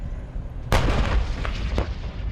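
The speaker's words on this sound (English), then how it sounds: "From across the border, more artillery fire flies towards Gaza." One heavy boom of artillery fire aimed toward Gaza rolls out, followed by a rumbling tail and a couple of fainter thuds, heard at a distance over low background noise.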